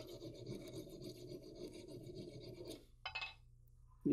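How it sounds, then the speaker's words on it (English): Brass being scraped off a powder drop expander funnel used in cartridge reloading, a close, continuous raspy filing and rubbing for nearly three seconds, then a couple of short scrapes and a final knock. "gently scrape the brass off"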